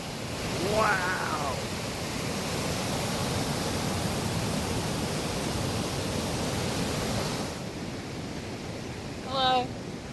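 A waterfall in Yellowstone National Park pours down a mountainside in a broad, constant rushing roar, loud and near, with a brief voice at the start and another near the end.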